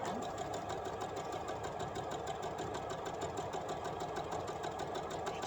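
Sewing machine stitching a scrap fan quilt block, a fast even rattling hum of needle strokes running steadily throughout, close up and fairly quiet, with no talk.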